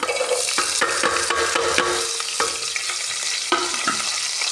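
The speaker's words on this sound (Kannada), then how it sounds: "ಎಲ್ಲ ಐಟಮ್ನ ಹಾಕ್ಕೊಂಡು ಚಲೋ ತಂಗ ಫ್ರೈ ಮಾಡೋಣ" Ingredients for sheer khurma frying and being stirred in a pan, a steady loud sizzle broken by repeated scraping and stirring strokes, with no talking.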